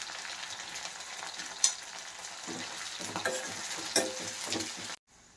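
Garlic sizzles and crackles in hot oil with green chillies and curry leaves while being stirred, a steady close frying hiss broken by a few sharp utensil clinks, then cutting off abruptly near the end.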